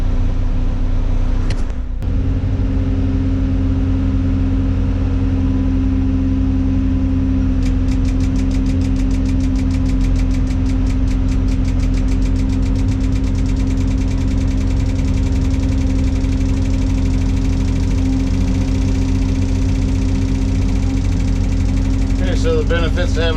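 A crane's engine runs steadily and loudly throughout while a stuck piece of machinery, bedded in asphalt millings and dirt, is lifted from a shipping container, with a brief sharp knock near the start and a rising whine toward the end.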